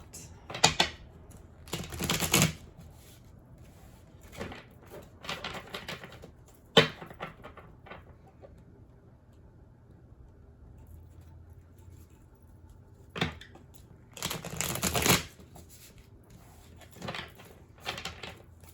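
Tarot cards being shuffled and drawn, giving scattered bursts of riffling and soft slaps with a few sharp taps, close and moderately loud, separated by quieter pauses.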